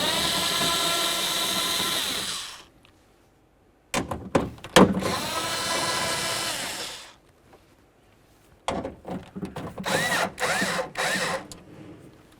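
A power tool whirs in bursts while removing mounting bolts from a 2003-2007 Honda Accord door, with long sustained runs separated by silence and short sharp clicks of the trigger between them.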